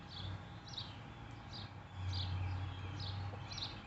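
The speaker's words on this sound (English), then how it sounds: "Y'all hear the birds behind me?" Birds chirp outdoors in the morning, short repeated high calls at a steady spacing, faint and distant over a low background hum.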